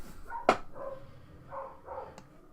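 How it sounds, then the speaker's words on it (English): Dogs barking outside during a scuffle with cats, one sharp bark followed by softer, muffled yips and whines heard from a distance at low volume. "it's dogs versus cats outside, boys"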